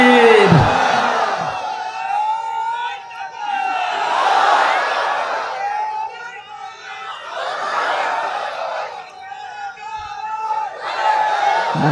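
A large crowd at an outdoor religious gathering answering a takbir call, loud chanted responses swelling in repeated waves with a voice leading between them.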